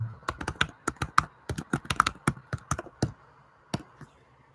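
Quick, irregular bursts of keystrokes on a computer keyboard, close and fairly quiet, clattering in short runs with brief pauses and no voices.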